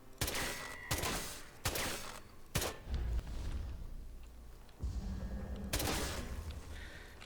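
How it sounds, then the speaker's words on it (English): Turrets are shot at in Atomfall with loud gunfire, about five or six sharp, close bursts separated by short pauses, some rolling into low rumbling tails. "We're just gonna shoot these turrets"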